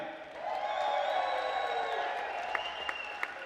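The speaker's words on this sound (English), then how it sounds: "So everybody, let's give them a big cheer." A crowd at a diving show cheers and applauds at moderate distance, a steady wash of clapping with a few sharp whoops and sustained voices rising and fading across the moment.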